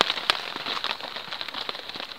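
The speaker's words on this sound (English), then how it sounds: "it's raining out here" Steady rain patters on a tarp at a wild woodland camp in Thetford Forest, with dense close drumming and occasional sharper drops.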